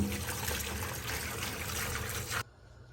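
Fresh green beans are rinsed under a running tap, a steady close splashing trickle that stops abruptly near the end, with no talking.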